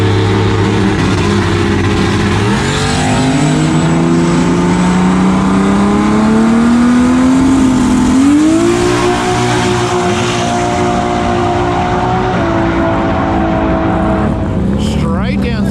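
A modified drag race car, rebuilt with many big changes and running 275 tires, makes its first test pass: a loud, steady engine roar climbs in pitch through the run, shifts once, and stays close and continuous before easing off at the end.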